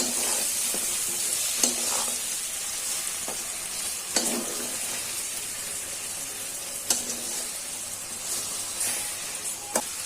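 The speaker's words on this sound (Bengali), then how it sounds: "এখন ভালো করে মশলাটা দিয়ে কষিয়ে নেব।" Spice masala frying in oil while being stirred for a rohu fish curry with winter beans: a continuous close sizzle with occasional scraping knocks of the spoon against the pan.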